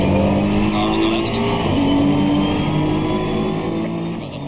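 A race car in Assetto Corsa Competizione roars past close on the left, its engine note steady and loud with harmonic whine and shifting pitch across the whole stretch.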